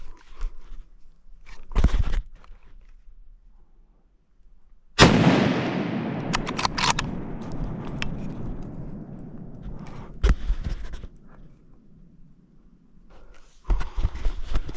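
A single loud rifle shot is fired at a black bear outdoors, with a sharp crack and a long rolling echo that fades slowly, set among quieter rustling and footsteps.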